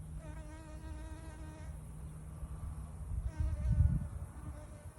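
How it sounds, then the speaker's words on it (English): Bees buzz around flowering Thai basil in a garden, a close, steady insect hum that rises and falls as they move, with rustling outdoor background and no voices. "this is really a bee attractor"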